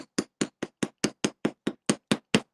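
Ball peen hammer striking metal while shaping an amulet, eleven crisp, evenly spaced metallic taps in a steady rhythm, close and clear with nothing else audible.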